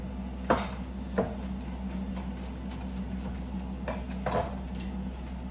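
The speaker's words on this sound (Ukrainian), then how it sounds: "У нас є шампіньончик, ми його зараз на дві частинки нарізаємо слайсиками" A knife makes a few soft, sharp cuts through a mushroom on a board, spaced irregularly over a low, steady kitchen hum.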